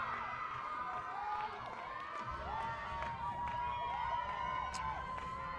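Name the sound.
crowd cheering at a lacrosse game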